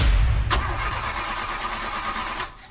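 A car engine cranks, catches and settles into a steady idle, loud and close with a high whine running throughout, no voices.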